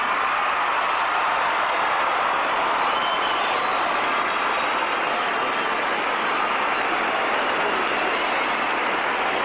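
Dense, steady crowd applause fills the scene at the 1980 US Olympic Trials team presentation, a loud continuous wash of clapping and cheering with confetti and balloons, sustained without a break.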